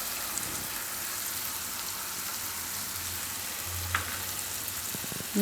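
Tomato and garlic-clove curry in a pan, garlic cloves with grated tomato in a Gujarati dish, simmering with a soft, steady sizzle and bubbling throughout, fairly quiet and close, with a few light clinks.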